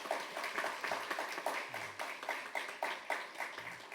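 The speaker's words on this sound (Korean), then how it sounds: "여러분 박수 한번 하겠습니다." A small crowd applauds at a university chapel service, with scattered, rhythmic clapping, moderately distant and fairly light, steady throughout.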